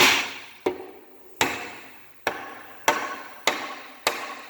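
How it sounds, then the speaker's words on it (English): Hammer blows on a Spicer 3053A transmission part from an M35A2 military truck, seven sharp metallic strikes spaced at a slow, uneven rhythm, each ringing briefly before decaying, close and loud with no talk. "So I guess I'm just going to keep beating on the damn thing"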